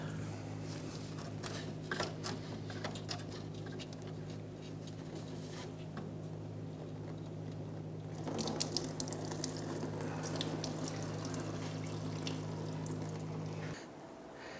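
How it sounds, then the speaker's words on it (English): Coolant draining from the radiator of a 1992–1996 Toyota Camry 2.2L four-cylinder, a quiet steady trickle and patter of liquid with a low constant hum beneath, growing slightly busier midway before the hum cuts off near the end. "we had drained our radiator just enough to get that coolant below the upper radiator hose"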